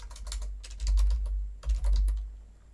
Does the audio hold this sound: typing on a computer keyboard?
yes